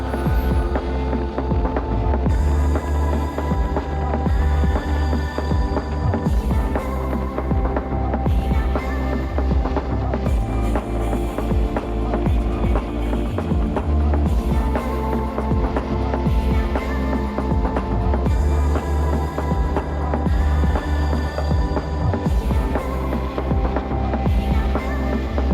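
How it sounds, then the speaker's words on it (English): Car engine revving hard in a low gear on the final stretch of a race track lap at a track day, a loud, steady droning throb that runs continuously throughout with no voices. "For this last stretch, just staying in a low gear and just letting the revs rise."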